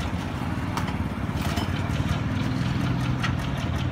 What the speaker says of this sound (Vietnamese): Đây các bạn có thể nghe tiếng garanti này, cực kỳ êm